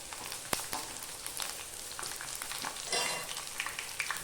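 Onion and green chillies fry in oil, a soft continuous crackle with a sharp clack of a utensil early on and a brief surge of sizzling toward the end, fairly quiet and close, no talk.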